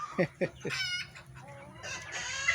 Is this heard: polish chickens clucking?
yes